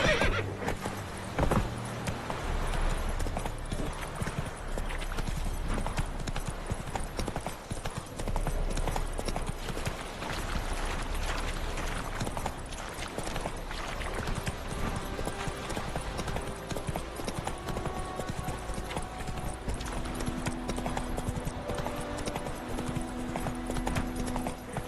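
A horse in The Witcher 3 video game trots and gallops with steady clip-clop hoofbeats throughout, mixed with game music and ambience and an occasional whinny.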